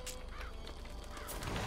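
Crows in the video game BioShock Infinite caw and flap in a harsh, close flurry over a dense, noisy game soundscape lasting under two seconds.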